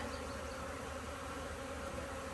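A dense swarm of bees buzzes from an angry beehive, a steady, faint, unbroken drone with no voices.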